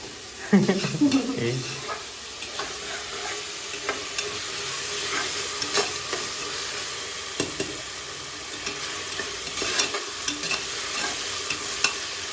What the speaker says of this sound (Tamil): தக்காளி நல்லா ஃபுல்லாக வதங்கணுமா?